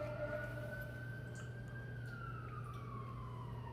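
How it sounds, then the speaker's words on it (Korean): An emergency vehicle siren wails steadily outdoors, a single long tone that slowly rises and then falls, heard at a moderate distance over a constant low engine-like hum, with no voices present. "저는 약간 이런 사이렌이 울리면 너무 막 불안하고"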